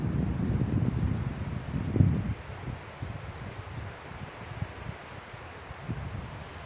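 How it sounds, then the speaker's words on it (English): Wind moving through a forest, a broad low rumbling rush with rustling leaves, stronger gusts in the first two seconds then easing to a steadier blow, with no voices. "Oh, the wind is so nice."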